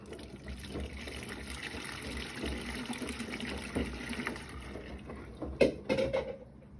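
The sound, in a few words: Bosch washing machine filling with water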